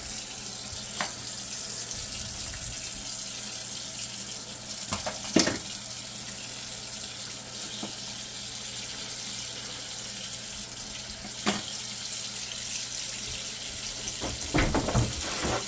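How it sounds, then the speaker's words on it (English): Cool tap water runs steadily into a kitchen sink, a continuous close splashing hiss with a few brief clinks and knocks from items being rinsed under the stream. "we're going to be running them under cool water."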